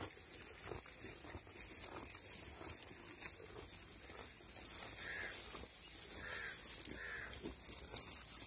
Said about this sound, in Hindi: अब कौवे इनको तंग कर रहे हैं यहाँ पे।